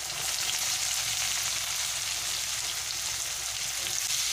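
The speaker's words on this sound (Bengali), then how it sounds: "এবারে আমি 2টো বড় সাইজের পেঁয়াজ কুচিয়ে রেখেছিলাম দিয়ে দিলাম" Two large chopped onions sizzle in hot oil with fried whole cumin seeds, a steady dense hiss close by that holds evenly throughout without talk.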